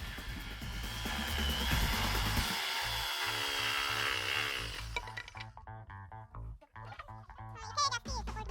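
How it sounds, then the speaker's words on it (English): A power saw cuts lumber pieces for a Dutch bucket hydroponic system, giving a brief dense burst of cutting noise before spinning down into fading tonal whine, all fairly quiet. "We start by cutting the pieces of lumber as per the plan."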